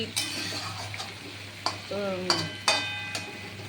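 Leafy greens and vegetables turned over in a frying pan, with a soft sizzle and a few scraping stirs and clinks of a spatula, close and fairly quiet, with a brief voice in the background.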